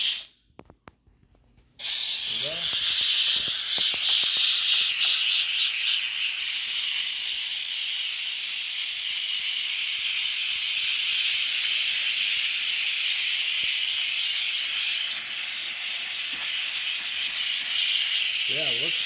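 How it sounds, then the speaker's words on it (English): A Grant's handheld steam cleaner blasts steam at a window, a loud, steady rushing hiss that starts abruptly after a short quiet pause and runs continuously to the end. "God, that's some great steam."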